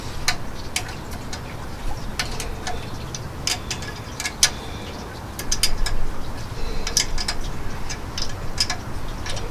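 A ratchet tightens a nut during reassembly of a 1977 Buick 350 engine, producing a steady run of light, close clicks over a low background hum, with no talking.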